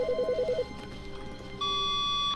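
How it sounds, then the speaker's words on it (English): An office telephone in The Stanley Parable rings in a quick warbling burst, followed after a pause by a steady electronic tone; clear and close, with no voices. "I definitely hear a phone."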